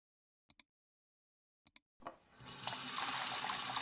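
Hot water gushes from a tap into a sink, starting softly and swelling into a loud, steady splashing stream after a few faint clicks.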